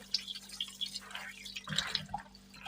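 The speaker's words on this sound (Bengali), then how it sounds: "তো মাছগুলো আমি এইভাবে করে পরিষ্কার করে ধুয়ে নেব" Running tap water splashes and drips while snakehead murrel fish pieces are rinsed clean, a close, irregular patter of droplets and trickling with small bursts of splashing.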